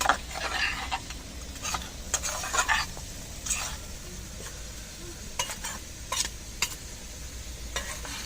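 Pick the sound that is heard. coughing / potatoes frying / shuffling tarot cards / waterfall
potatoes frying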